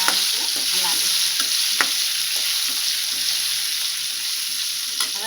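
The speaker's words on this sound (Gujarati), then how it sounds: "આ રીતે બધા જ ગુંદા આપણે એડ કરી દઈશું અને થોડીક વાર આ રીતે હલાવીશું." Gunda, stuffed and frying in a pan, are stirred steadily through a constant close sizzle, with occasional soft scrapes and clicks of the spoon against the pan; no one speaks.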